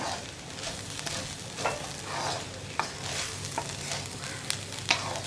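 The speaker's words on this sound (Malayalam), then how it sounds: "ഉപ്പ് ചേർത്തിട്ട് നമുക്ക് വീണ്ടും ഒന്നുകൂടി ഇളക്കി മിക്സ് ചെയ്യാം" Spring onion stir fry (ulli ila thoran) is stirred in a hot pan, a continuous sizzle with scraping stirs and occasional sharp clinks of the spoon against the pan, close and steady.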